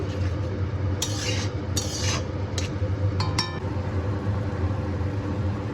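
Ground spices stirred in a pan while cooking kachki fish, a soft continuous scraping and sizzling with a few sharp clinks of a utensil against the pan.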